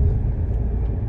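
A car overtakes on the road, heard as a steady low engine and road rumble from close by, without a distinct pass.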